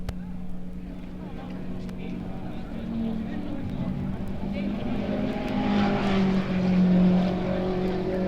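A 1950s race car pulls away from the pits at the Sebring races, its engine rising in pitch and volume as it accelerates off, with a voice talking over the start.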